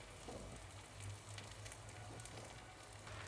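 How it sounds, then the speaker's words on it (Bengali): Tilapia pieces fry in oil in a pan over low heat for a home fish barbecue, giving a soft, steady sizzle with crackle throughout and no talking. "এখন চুলার আঁচটা লোতে রেখে মাছগুলো ভেজে নিতে হবে।"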